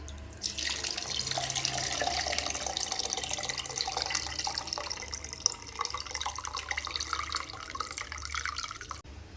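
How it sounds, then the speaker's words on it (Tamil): Strained tomato water for rasam is poured off into a vessel as a steady liquid stream with splashing and dripping, continuing for several seconds without speech. "இப்போ இந்த தக்காளியிலே இந்த தண்ணியை வடிகட்டிக்கலாம்."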